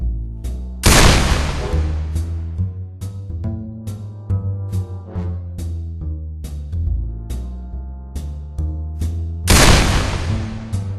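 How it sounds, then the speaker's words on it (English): Gunfire in a private-eye audio drama, two sharp, loud shots spaced far apart at the start and end, with scattered lighter impacts and clatter between them. "I put 2 shots into him"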